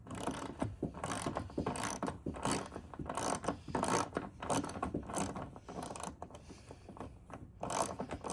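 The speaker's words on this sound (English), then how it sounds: "So we're just gonna unscrew this a bit." A ratchet wrench clicks in quick, steady bursts while backing out a bolt behind the grille of a 6th-generation Toyota 4Runner TRD Pro, close and alone with no talk.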